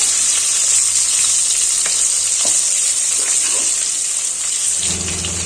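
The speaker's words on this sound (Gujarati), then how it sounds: "અને તેલમાં તેને સાચડી લેશું આ રીતે હળવા હાથે તેલમાં આપણે બધા કેળા છે તે પેલા સાતડી લેવાના છે" Raw bananas sauté in hot oil with a loud, steady sizzle, with occasional soft stirring clicks, and no talking.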